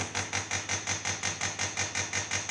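A DeLonghi La Specialista Arte espresso machine's pump runs dry with no water, giving a loud, rapid rhythmic pulsing buzz of roughly four to five beats per second that continues evenly throughout.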